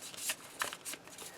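Square Fire Nation cards from a deck-building board game are shuffled by hand, giving three or four quick papery riffling bursts close to the microphone, with no talk over them.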